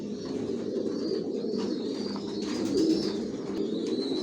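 Racing pigeons coo in a loft of new adult birds, low soft throaty calls overlapping steadily throughout, with faint higher chirps and background hiss.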